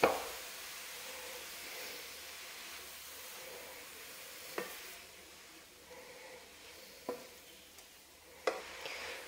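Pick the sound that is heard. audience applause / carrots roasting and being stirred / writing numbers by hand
carrots roasting and being stirred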